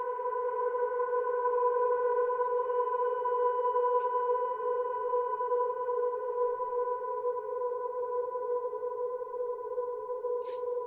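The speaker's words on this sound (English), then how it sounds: "That's how big this reverb is." An enormous synth reverb tail from the soundtrack of the game Sword of the Sea rings on as a smooth, steady sustained tone for over ten seconds, holding constant loudness with only a couple of faint ticks.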